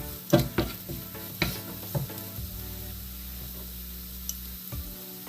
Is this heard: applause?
no